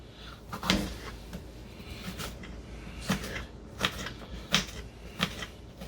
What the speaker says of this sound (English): dice up some onion